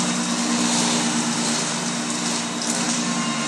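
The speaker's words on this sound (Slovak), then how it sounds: "kosačka ti neublíži" A lawn mower engine drones steadily close by, a constant buzzing hum that holds the same pitch throughout with no voices.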